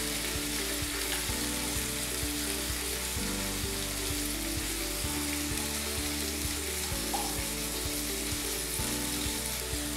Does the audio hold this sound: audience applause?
no